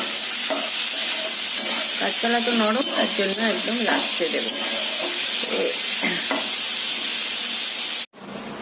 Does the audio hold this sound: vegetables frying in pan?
yes